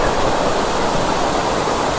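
Catherine Falls, a large waterfall near Kotagiri, roars with steady broadband rushing water, loud and continuous with no other sound standing out.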